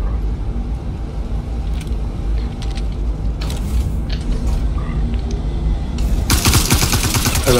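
An elevator mechanism in a video game rumbles and creaks steadily, with scattered mechanical clanks and then a loud, bright grinding surge toward the end as it moves.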